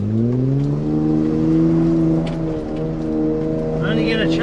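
A 4WD vehicle's engine straining in first gear up a steep dirt track, a loud, steady droning growl with rising and falling revs, close up, with some rattling and a person talking over it.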